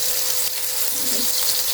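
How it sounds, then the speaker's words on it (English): Close, continuous sizzling of cevapi frying in a pan, a dense crackling hiss with no talking. "You can hear that lovely sizzling going on"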